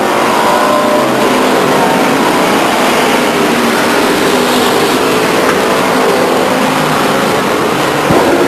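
Race cars lapping Stockton 99 Speedway in 1999, a continuous loud roar of engines running single file down the back straight, steady and dense with no pauses.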